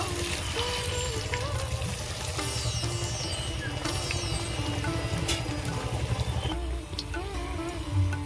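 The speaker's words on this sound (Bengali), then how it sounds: "এইভাবে আমি সবগুলো ভেজে নেব" Steady frying sizzle of katla fish chops runs throughout, a constant hiss of hot oil with other tonal sounds layered over it.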